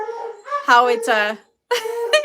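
A pet dog indoors at home lets out loud, drawn-out whining barks and howls in a couple of bursts, with a short silent gap between them.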